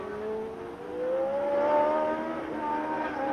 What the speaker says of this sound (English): tremendous excitement at this battle for third position between Jody Scheckter in the Ferrari and Niki Lauda